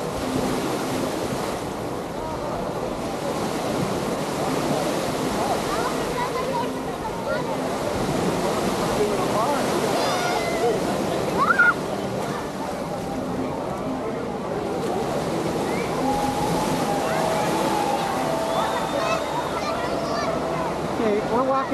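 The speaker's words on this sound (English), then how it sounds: "so you guys can listen to the waves" Continuous roar of surf washing ashore at Waikiki, steady and fairly loud, with wind buffeting the microphone and faint distant voices underneath.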